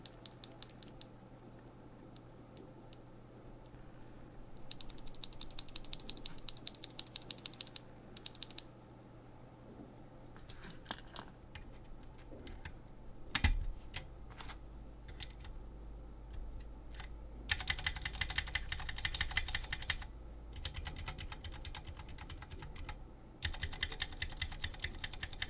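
Bursts of typing on lubed mechanical keyboard switches with Kailh Pro Purple housings and Koala stems, soft and muted keystrokes in quick runs with short pauses between, close and clear with no talking.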